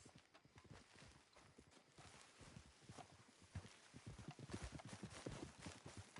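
Horse hooves clip-clop steadily on the ground in Red Dead Redemption 2, a quick continuous rhythm of close, fairly loud hoofbeats that runs throughout with no talk.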